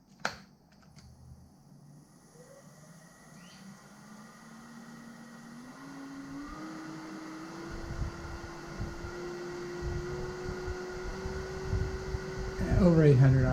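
A lathe spinning up after being switched on, a steady motor whine that rises in pitch over several seconds and then holds at speed, with a low mechanical hum underneath and a brief clatter near the end.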